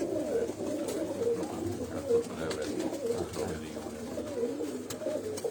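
Breeder pigeons in cages coo in repeated soft, throaty rounds at close range, several birds overlapping steadily, with faint background murmur.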